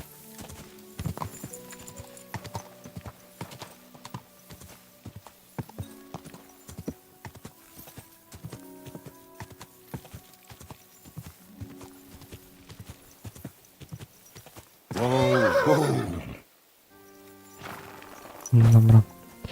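Horse in the video game Kingdom Come: Deliverance II, rhythmic clip-clop of hooves throughout with a loud neigh near the end, under occasional speech.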